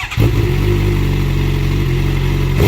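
A motorcycle with a flashed ECU held wide open against a two-step launch limiter set around 7,500 RPM, a loud, steady, crackling drone that holds without a break.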